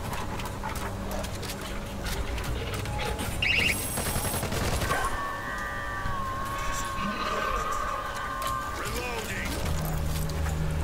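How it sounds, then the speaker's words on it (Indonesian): An automated sentry gun in a first-person shooter rattles off bursts of gunfire at the player, set amid sirens, alarms and constant game noise, with someone talking over it throughout. "Kita cari celah biar nggak kena tembak sama sentry gunnya ini."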